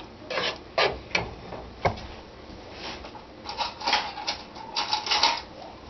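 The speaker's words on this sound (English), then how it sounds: "Stir that around in there." A spoon stirs Cincinnati-style chili ingredients in a pot, giving irregular scraping and knocking strokes against the pot, close and moderately loud, with no talking.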